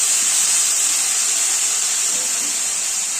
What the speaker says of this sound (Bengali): মশলাটা যাতে না ভরে যায় একটু জল দিয়ে দিলাম